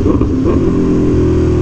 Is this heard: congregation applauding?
no